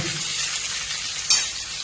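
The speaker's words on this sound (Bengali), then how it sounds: "পটল ভাজছে" Pointed gourd (potol) frying in a pan gives a continuous close sizzle, broken once by a short, sharp clink partway through, with no one speaking.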